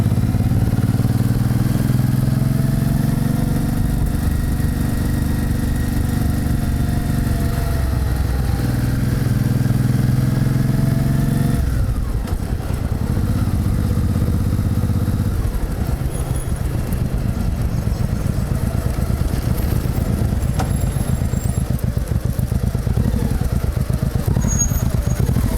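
Motorcycles on a mountain road trip run steadily close by, a continuous low engine drone with harmonic tones that shifts slightly midway, with no voices.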